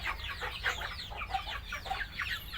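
Chickens at a Vietnamese chicken seller's cluck and chatter in overlapping, irregular calls, moderately close with a low background rumble.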